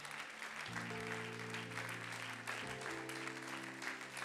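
A church congregation claps in a steady, moderately loud wash of applause, with sustained organ or keyboard chords beneath it.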